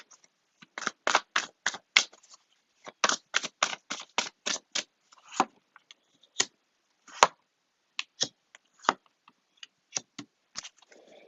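Tarot cards are handled and laid out on a surface, making sharp, close snapping taps that come in quick rhythmic runs at first, then spread into scattered single hits with quiet gaps.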